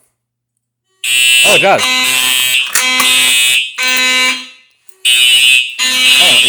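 A Simplex 4005 fire alarm sounds during a home system test, loud close pulsing horn blasts in repeated bursts with brief gaps, while a person speaks briefly over it.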